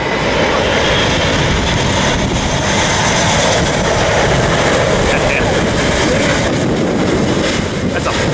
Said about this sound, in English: That's a big plane right there.